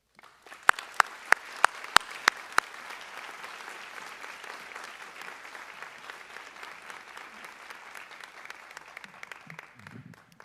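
An audience applauds a returning speaker at a formal event, opening with a few sharp loud claps before settling into sustained, even clapping that fades at the end.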